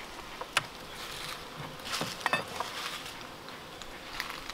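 Honey bees buzz around a hive frame full of honey, a faint, diffuse hum with scattered light taps and clicks from handling the frame nearby.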